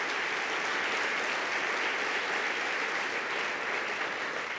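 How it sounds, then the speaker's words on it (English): A conference audience at an urban parks keynote breaks into a dense, sustained round of applause, loud and even throughout with no talking. "And she deserves a nice round of applause."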